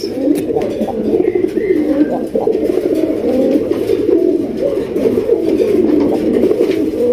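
Many pigeons coo and call together in a dense, continuous chorus of overlapping low throaty coos, loud and close, with no talk over it.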